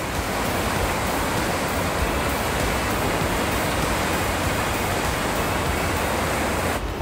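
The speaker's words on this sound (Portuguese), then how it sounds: "As pessoas aproveitam a força da água que vem do subsolo para surfar bem aqui, no centro de Munique" Rushing water of the Eisbach surfing canal in central Munich roars as a dense, loud, unbroken wash, close and steady for the whole stretch, with no voices.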